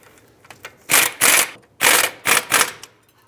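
The caliper bracket bolts on a 2003-2007 Nissan Murano's front brake are snugged up with an impact or ratchet tool. Five short, sharp mechanical bursts come in quick pairs, close and loud, with quiet gaps between them.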